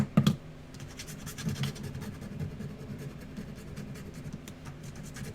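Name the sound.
scraping back of cardboard food carton with scissors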